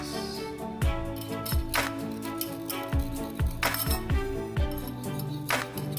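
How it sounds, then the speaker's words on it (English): Eggs being whisked for spicy, cheesy scrambled eggs, a utensil striking the bowl in irregular clinking taps, several sharp knocks spaced across the stretch at close range with no talking. "Now we're gonna whisk it."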